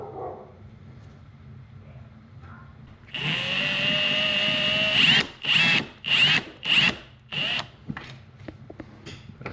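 A power drill drives screws into a dartboard mounting bracket: one long whirring run, then several short, sharp bursts as the screws are snugged down, close and loud.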